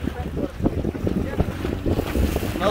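Motorboat pounding over Pacific ocean swells during a boat race off Acajutla, with rough thumps of hull on water, engine rumble and heavy wind buffeting close to the microphone.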